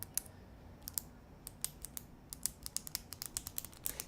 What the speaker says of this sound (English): Samsung built in a clicking mechanism in the pen for getting it out